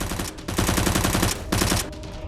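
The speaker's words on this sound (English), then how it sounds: "The henchman teams up with the boss to shoot SWAT." Rapid bursts of gunfire in a staged action fight with masked heroes against a criminal gang, two loud close volleys of fast repeating shots separated by a short pause, with no voices.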